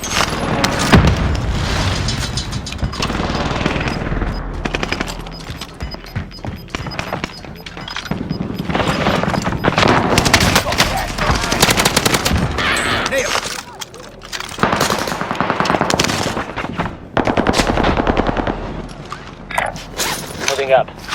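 Heavy gunfire in a Call of Duty Warzone quads match, with dense bursts of shots and booming impacts continuing throughout, loud and close, under game voice callouts.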